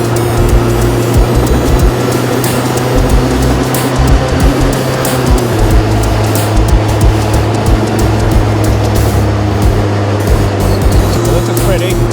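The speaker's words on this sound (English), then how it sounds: "If you think it's cool driving through tunnels, try it in a go-kart." A go-kart on a real-life street kart tour in Japan drives through a tunnel, its steady engine drone and road rumble loud and constant throughout, with a voice talking over it.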